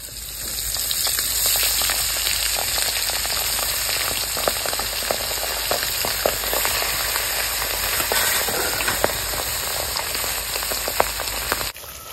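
Pabda fish frying in hot mustard oil with a little salt, a loud, steady, dense sizzle with fine crackling pops that runs unbroken and close-up, with no talking, before cutting off just at the end.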